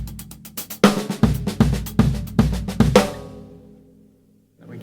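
Drum fill phrased in groups of threes: a run of sharp, loud hits in clustered bursts across the kit, each group ringing into the next, then a long decaying wash of cymbal before near silence.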